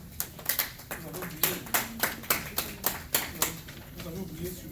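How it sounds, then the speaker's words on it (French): Applause from an audience greeting a doctor being introduced at a Congolese cultural evening, heard as a steady patter of claps with repeated louder bursts about every half second, close and moderately loud. "Vous pouvez acclamer."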